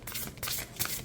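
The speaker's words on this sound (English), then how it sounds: "I don't see a lot of issues with the shuffling." Oracle cards from a deluxe crystal grid deck shuffled by hand, a brief soft papery riffle in two or three quick bursts, close and fairly quiet, with no voices.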